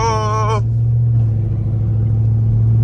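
A 2002 Ford Mustang GT engine idles with a steady low rumble throughout, loud and close, after a brief tonal voice-like sound at the start.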